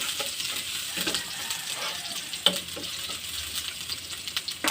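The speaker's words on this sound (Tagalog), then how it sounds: "Magluluto ako dito ng pork steak." Pork steak frying in a pan in a home kitchen, a steady broadband sizzle with occasional small clicks and stirring sounds, close and continuous with no talking.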